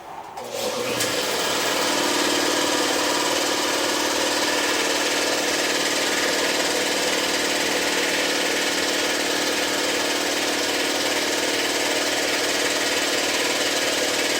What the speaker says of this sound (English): Oh, I gotta turn my compressor on too.